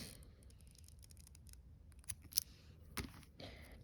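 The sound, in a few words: scissors cutting string for a bracelet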